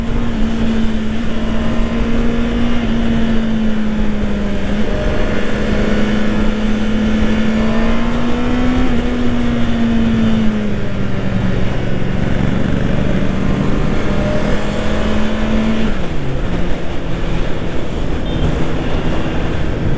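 A Honda motorcycle engine drones loudly and steadily over heavy wind rush while riding, then its pitch dips briefly near the end as a gear change brings a short shift in engine note.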